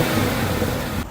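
2018 Chevrolet Camaro ZL1 V8 engine pulling up a driveway on a test drive, a brief steady mid-pitched engine drone heard close by with no talking.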